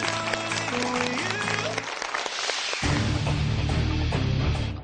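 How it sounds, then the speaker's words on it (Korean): An audience claps for the eliminated Jeju Jungang Girls' High School team on a high school quiz show, a steady wash of applause that starts over tonal music and keeps going once the music drops. "아쉽게 탈락한 제주 중앙여고에게 위로의 박수 부탁드립니다"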